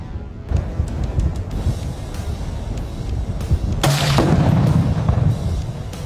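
A single rifle shot rings out outdoors at dusk during a blackbuck hunt, a sharp loud crack with a rumbling tail over steady wind noise, with no talking.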